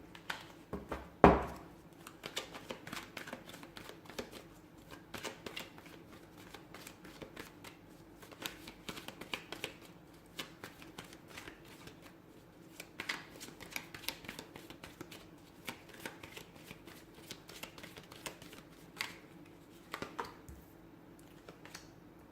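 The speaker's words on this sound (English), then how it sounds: "let's go ahead and give the cards a shuffle and begin." Tarot cards being shuffled over and over, soft riffling and flicking bursts with small taps, close by and quiet, continuing without any talk.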